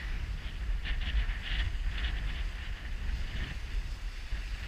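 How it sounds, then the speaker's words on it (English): Wind rushing over a boat out on a Norwegian fjord, a steady close buffeting roar with faint water wash beneath, continuous throughout with no voices. "Little breeze of wind."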